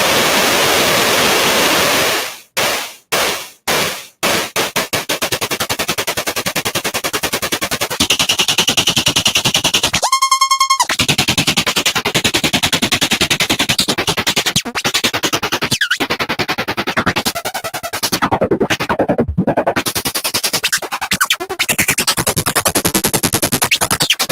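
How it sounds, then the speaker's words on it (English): A synthesized glitchy noise, shaped by an attack-decay envelope into a drum, plays as dense, loud, harsh static broken by sharp rhythmic gaps and stutters, with a brief pitched sweep midway, all without voices. "let's go ahead and drop a little attack decay envelope on it to make it like a little bit more of a drum"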